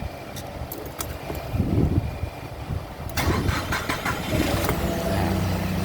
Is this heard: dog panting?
no